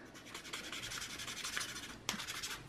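A plastic card scrapes old thermal compound off the CPU of a Dell Latitude E6540 laptop, making steady rhythmic rubbing strokes, close and moderately quiet, with one sharper scratch near the end.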